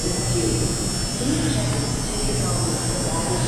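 A steady electrical hum and buzz from soda and snack vending machines in the Durham Amtrak train station in North Carolina fills the space continuously and fairly loudly, with no pauses.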